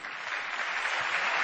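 A poetry-competition audience clapping after a poem, a dense steady wash of applause that holds at an even level for the whole brief moment.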